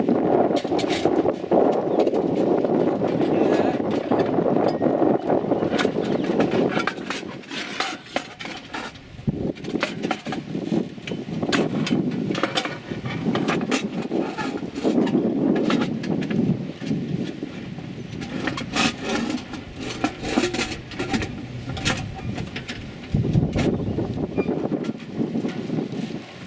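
Wind blows steadily outdoors while snake netting is built for purple martin housing, a continuous low buffeting rumble on the microphone with scattered light clinks and rattles.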